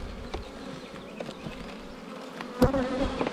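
Honey bees buzz around plastic hive frames in a box at a farm, a low, steady drone with a few louder passes close by, no voices.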